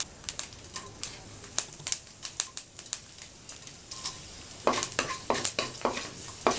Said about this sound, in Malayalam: കടുക് പൊട്ടി കഴിഞ്ഞ് അതിലേക്ക് 2-3 ഉണക്കമുളക് ചേർക്കാം.